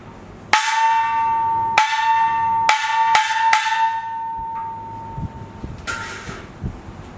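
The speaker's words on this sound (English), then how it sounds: "Xiaoluo, small gong," Five strikes on a xiaoluo, a small brass Chinese gong, come at uneven intervals. Each one rings out bright and sustained and slowly decays, and soft room noise and faint handling sounds follow the final hit.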